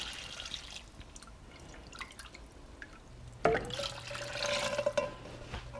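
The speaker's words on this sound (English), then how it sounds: "I'm gonna add my vinegar to it." Vinegar pours into escovitch sauce with carrot in a kitchen, starting with a few faint drips and then a steady splashing trickle of liquid over the last couple of seconds.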